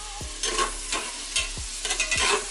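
Whole peppers and onions frying in a pan, a quiet steady sizzle cut by four quick scrape-and-stir strokes, each followed by a brief rush of hissing, with no talk.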